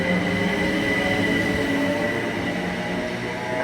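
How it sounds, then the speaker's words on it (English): A Class 379 electric train departing Cambridge South station toward London, a loud, steady rumble of wheels and motors with a faint tonal whine, heard close and alone. "as the 379 departs heading up towards London King's Cross"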